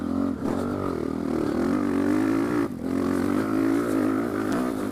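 A motocross motorcycle rides a rough, deeply ripped dirt track, its engine droning steadily and close with slight rises and dips in revs and a couple of brief throttle lifts.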